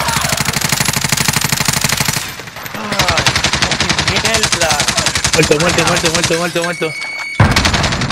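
Gunfire in a video game: rapid, loud automatic bursts of shooting nearly continuous throughout, with a brief lull partway and a voice talking over the shots.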